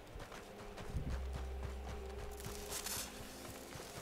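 Horse hooves clop rhythmically over the ground in Red Dead Redemption 2, a steady mid-distance walking gait that continues through the whole stretch, with a faint ambient wash behind it.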